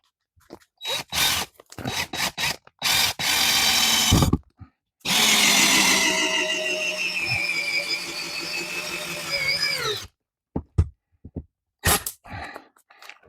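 A power drill bores into a roof rafter plate in a shed being converted to a tiny house. Several short trigger bursts come first, then one long strained run whose motor pitch rises and falls, and a few brief pulses close it out.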